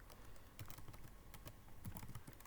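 Rapid clicking of computer keyboard keys during a typing lesson, steady and close with irregular bursts of keystrokes, no voices.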